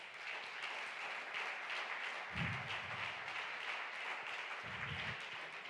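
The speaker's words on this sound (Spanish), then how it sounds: "Dile un aplauso al Señor." Church congregation applauding, a steady wash of clapping from a crowd with two brief low thumps partway through.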